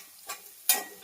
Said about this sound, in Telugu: ఇదిగోండి ఇదైతే మంచిగా ఫ్రై అయిందండి